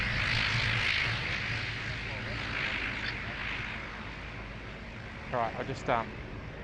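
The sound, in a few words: De Havilland Dash 8 propeller aircraft passing loudly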